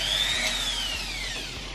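Power drill boring holes in seashells, a steady high whine that rises and then slowly falls in pitch, close and loud, with no talking.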